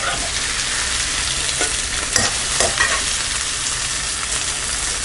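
Eggplant (brinjal) pieces frying in oil in a pan for kathirikkai thokku, a steady loud sizzle with occasional stirring scrapes and small pops, close up and continuous.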